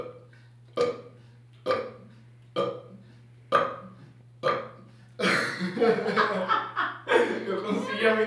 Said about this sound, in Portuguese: eu sou o campeão mundial de arrotos em sequência.